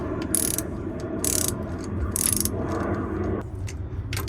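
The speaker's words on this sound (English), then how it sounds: "Once again with that spark plug socket, it just pulls them right out." A ratchet fitted with a spark plug socket loosening a spark plug on a jet ski, giving several close bursts of rapid metallic clicking separated by short pauses, over a steady low background hum, with no talking.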